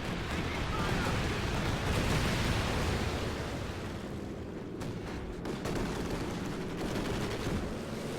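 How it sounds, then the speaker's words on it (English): A strafing run in the World War II strategy game Company of Heroes 2: a dense, sustained roar of aircraft gunfire and explosions that holds steady for several seconds under the game's battle noise. "Another strafing run inbound."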